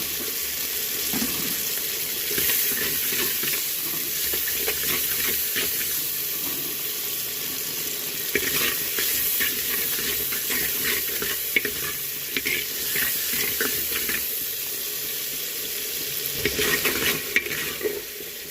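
Tomatoes with spices sizzle and fry in a pan while being stirred, a steady broadband hiss with repeated scraping stirs throughout, close and fairly loud with no talking.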